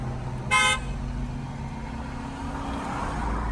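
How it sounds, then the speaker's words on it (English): A single short car horn toot sounds clearly over a steady low engine idle and road rumble near a BMW 540i with a new downpipe, with no speech. "What you honking at, bro?"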